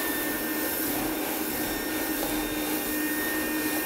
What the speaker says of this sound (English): Now listen to this motor as I begin to vacuum.